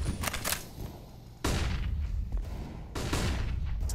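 Pistol fire in Counter-Strike: Global Offensive during a pro match on the Mirage map, with Desert Eagles and a P250 in play: sharp, loud single shots cracking out in quick succession, with heavy bursts near the start, middle and end.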